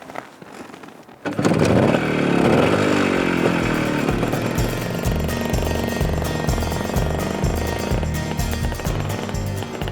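An old, valuable British motorbike engine starts up and runs with a loud, rough, rhythmic throb that stays steady and close for several seconds, with no talking.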